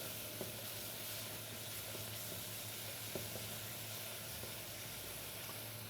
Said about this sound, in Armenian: շարունակենք տապակելը